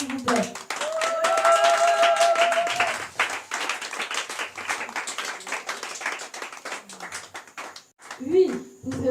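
A church congregation claps and applauds loudly and steadily through most of the stretch, with voices mixed in, then the applause thins toward the end as a voice comes through.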